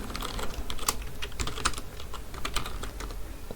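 Rapid, uneven clatter of keys on a computer keyboard as code is typed, steady and close with sharper individual keystrokes, and no voices.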